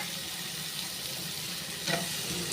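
Chopped carrot and green capsicum frying in a pan, giving a continuous soft, hissing sizzle at moderate level with a brief crackle near the end.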